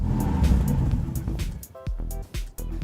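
A car engine revs and accelerates from inside the cabin, a loud low rumble building under road noise, with brief pitch shifts as the driving changes near the end.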